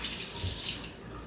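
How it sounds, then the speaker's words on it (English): A peach rinsed under a cold kitchen tap, with a steady broadband rush of running water splashing over the fruit, close and continuous for the whole short stretch. "I'm just going to rinse it with some cold water."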